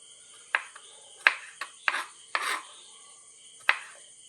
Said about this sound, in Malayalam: ചെറുതാക്കി അരിഞ്ഞ് വരട്ടെ